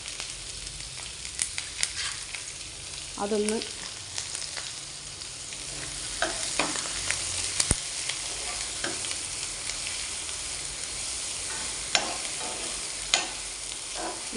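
Shallots, ginger and garlic frying in hot oil while being stirred, a continuous sizzle broken by repeated scraping clicks of the spoon against the pan; a brief word is spoken partway through.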